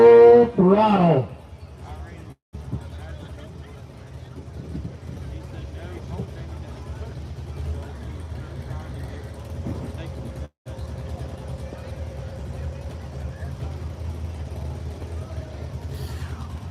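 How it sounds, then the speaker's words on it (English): A John Deere tractor runs at full throttle during a tractor pull. The engine gives a steady, low, droning rumble heard from some distance, and an announcer's voice talks over it. "First puller going to be Hugh Grenadine out of Chesterfield. On a John Deere, he calls the full throttle."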